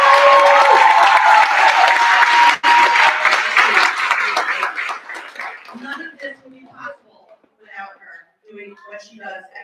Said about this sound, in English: a huge round of applause for Ms.